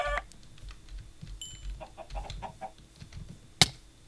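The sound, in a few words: chickens clucking in the video game Minecraft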